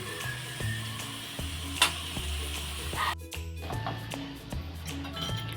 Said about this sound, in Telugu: చూడండి, ఇలా కజ్జికాయలను అయితే ఫ్రై చేసుకోవాలన్నమాట ఆయిల్లో.